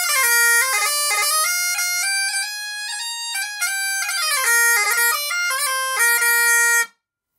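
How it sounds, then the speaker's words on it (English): Ronnie Hein highland bagpipes fitted with a second easy reed play a loud, continuous tune of shifting notes over a steady drone, with no speech, stopping abruptly near the end. "Let's try this other one."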